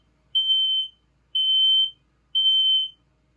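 An RV's gas leak detector alarm sounds three identical shrill, steady electronic beeps at even one-second intervals, loud and close with quiet between them.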